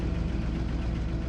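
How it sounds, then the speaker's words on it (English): A car engine runs steadily in a MythBusters test of escaping a car sinking upside down, a loud, close, continuous low rumble with no talk over it. "Mike, go ahead and start your engine."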